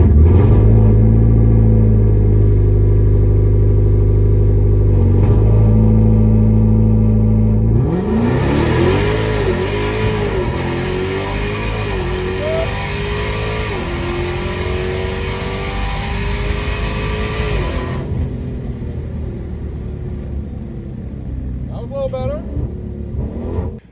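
A Dodge Demon 170 drag car idles on the trans brake with a deep rumble, then launches and roars down the drag strip, engine pitch climbing through several gear changes before fading away.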